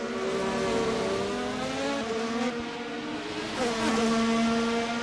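Race cars at the Portimao circuit, engines holding a high whine that dips under braking and climbs again as another car passes close, two engine notes overlapping, loud and continuous without talk.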